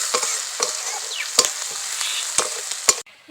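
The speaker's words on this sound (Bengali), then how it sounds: "হালকা করে ভাজা ভাজা করে নেবো পেঁয়াজটাকে।" Chopped onion lightly frying in a pan, a soft continuous sizzle broken by several sharp spoon clicks and scrapes from stirring, then cutting off abruptly.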